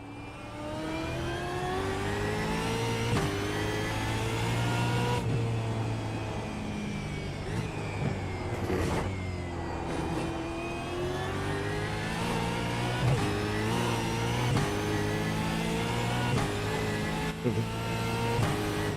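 A car revving hard and accelerating through repeated gear changes, its engine note climbing and dropping in steady cycles, loud and close for the whole stretch with no voices over it.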